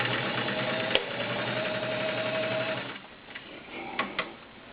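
A Kenmore Model 65 heavy duty 1.2-amp sewing machine running at speed, a steady loud mechanical whir that slows near the end and is broken by a few sharp clicks.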